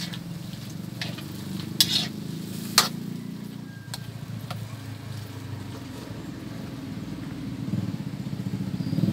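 Chayote and cabbage being stirred in a hot pan as they sauté, a steady close sizzle with a few sharp scrapes of the utensil near the start, and no talking.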